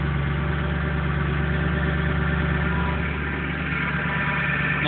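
A freshly rebuilt Mustang engine idles right after its first startup. The low, steady rumble runs unbroken and close, with no voices over it.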